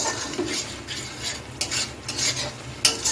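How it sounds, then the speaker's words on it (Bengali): Spices and softening tomato stirred and sautéed in a pan over a medium gas flame for chire khichuri, with steady scraping and gentle sizzling and a few sharper utensil clinks near the end. "দিয়ে এখন ভালো করে সমস্ত মশলাগুলো কষিয়ে নিচ্ছি"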